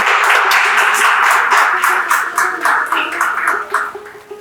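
Contest audience clapping for the winning mother-daughter team, a dense run of loud claps with some pinging tones and a few voices mixed in.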